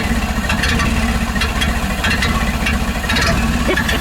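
A 1931 Ford Model A Huckster delivery wagon with an aftermarket cam idles with a lumpy, uneven rumble, a steady close low engine drone with rattling pulses throughout.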